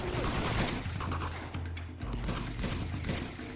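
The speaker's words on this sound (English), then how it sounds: "Let's get a few shots at this guy." Gunfire in the video game Uncharted 2: Among Thieves, a dense run of loud shots rattling over a steady game soundtrack for a few seconds, with no talking.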